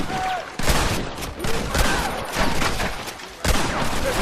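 Gunfire in the video game Red Dead Redemption: a loud, dense fusillade of overlapping shots and cracks in rapid bursts, with shouting voices mixed into the firefight.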